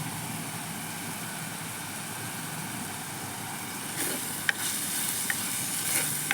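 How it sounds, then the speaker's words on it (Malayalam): Curry leaves crackle in hot oil for a fish curry, a steady even hiss throughout with a few small pops and spits toward the end. "കുറച്ച് വേപ്പില ഇട്ട് കൊടുക്കാം കേട്ടോ"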